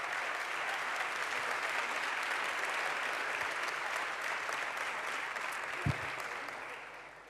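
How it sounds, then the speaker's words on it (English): An audience at a startup conference arena stage applauds in a sustained, even wash of clapping that holds steady for several seconds and then gradually thins out, with one brief low thump near the end. "Thanks for the applause."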